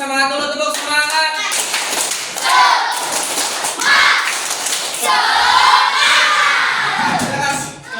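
A school class claps and chants together in a rhythmic encouragement cheer, many children's voices shouting in unison over quick patterned claps and thumps, loud and close.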